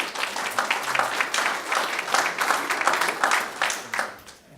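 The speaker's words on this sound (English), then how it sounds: "let's applaud our presenters." A conference audience gives a round of applause for the presenters at the end of a session on self-driving cars and vehicle safety, steady clapping that swells and then fades out.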